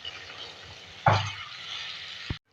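Beef sizzles in hot oil in a home kitchen with garlic-ginger paste, a steady frying hiss that flares with a loud sputter as the paste hits the pan, then settles back to a constant crackle before a short thud.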